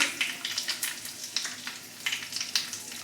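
Mustard seeds, cumin and asafoetida crackle and sizzle in hot oil while tempering dal, a soft, steady frying hiss broken by small sharp pops, close by with no talk.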